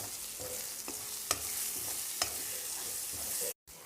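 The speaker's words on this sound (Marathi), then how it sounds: "तेल सुटेपर्यंत याला भाजून घ्यायचे आहे यामध्ये टमाट्याची पेस्ट टाकायची मसाले टाकून घ्यायचे आहेत" A spoon scrapes and stirs through masala and tomato paste frying in oil in a pan, with a steady sizzle underneath and a few sharp clinks.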